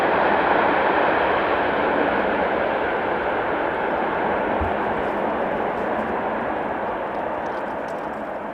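Airliner arriving on runway 18R at Amsterdam Schiphol, a loud steady broadband engine roar that holds evenly and fades slightly toward the end, heard alone without voices.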